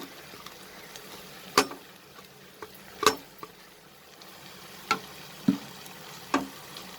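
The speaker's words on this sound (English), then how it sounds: "Now I am going to add the bitter gourd and the onion." Bitter gourd and onion are stirred into frying spices for karela pyaz sabji, a faint sizzle broken by several sharp clacks of a spoon against the pan at irregular intervals.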